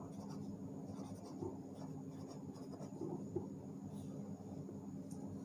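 Chalk or marker scratching steadily across a classroom board as a definition is written out, a continuous close rasping texture with no voices over it.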